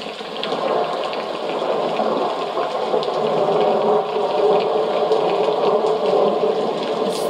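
Water setting on a white noise sleep sound machine, a steady continuous rushing gush like running water, even and unbroken throughout with no talk.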